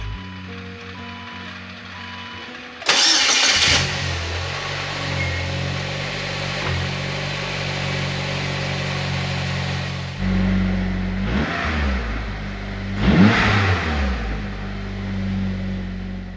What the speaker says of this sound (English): Now we're gonna go ahead and start it up and see what happens